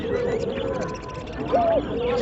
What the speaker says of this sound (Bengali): ঘুঘু পাখির ডাক অনেক সুন্দর ডাক হয়ে থাকে